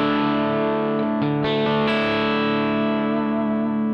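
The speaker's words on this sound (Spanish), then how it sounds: "Creo que es una especie de crunch, por así decirlo." Crunchy, mildly overdriven electric guitar through a Yamaha DG1000 amp with cabinet simulation, sustained chords ringing steadily with a few picked changes, loud and continuous with no talking.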